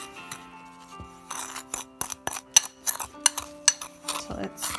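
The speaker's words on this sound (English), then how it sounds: "So in a small bowl, some sugar, cinnamon, and just gently mix that together." Sugar and cinnamon are gently mixed in a small bowl: a series of crisp, close utensil clicks and taps against the bowl, irregular and fairly light.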